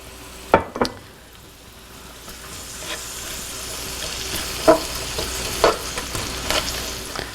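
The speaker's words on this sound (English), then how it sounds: "So while our onions are sauteing, getting down to where they're tender" Onions sautéing in fat in a pan, a soft steady sizzle with a few sharp clinks and stirs of a utensil against the pan scattered throughout.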